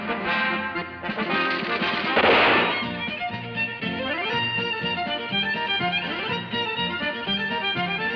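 Blank cartridges fired in an old 1961-era film comedy scene: a sharp, loud burst of shots over a continuous bed of period music, with a muffled, narrow-band recording quality.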